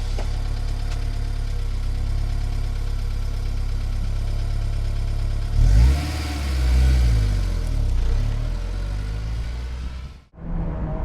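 A sports roadster engine, one of a Mazda ND2 Miata, Porsche 986 Boxster S or similar enthusiast car, idles loudly, then revs up sharply several times with rising and falling pitch before cutting off briefly and catching again, close and alone.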